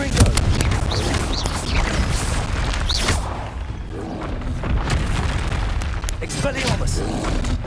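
Confringo spell explosions in Hogwarts Legacy, a rapid series of loud booming blasts and bursts repeating throughout, mixed with a voice shouting spell incantations over the battle.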